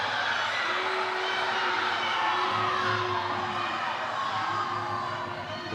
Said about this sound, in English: The Bloomingdale crowd, I'm not quite sure what they're cheering for or wanting to get from the refs with a 9-point lead.